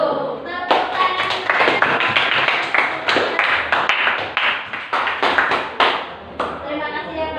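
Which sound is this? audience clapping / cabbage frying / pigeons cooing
audience clapping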